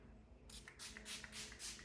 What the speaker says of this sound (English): I'm going to spray the Sunrise New Dawn again.